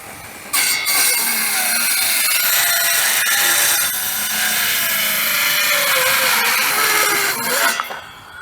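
A Sears Craftsman cordless circular saw cuts through a wooden board, a loud, steady high-pitched whine of the blade biting wood that runs for several seconds and then drops away at the end.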